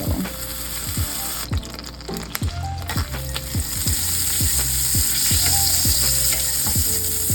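A tablespoon each of butter and oil sizzle loudly and steadily in a pan, ready for carrots, a close, continuous crackling hiss running the whole time.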